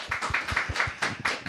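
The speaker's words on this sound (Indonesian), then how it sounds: "Boleh kasih tepuk tangan?" Audience applause at a talk-show style event: a small group claps in quick, uneven bursts, moderately close and fairly loud, with no voices over it.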